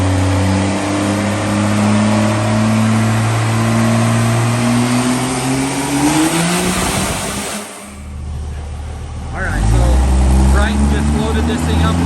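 A nitrous-fed car engine built for 2500 horsepower runs loud and close, its pitch rising steadily as it revs, then it drops briefly and picks back up.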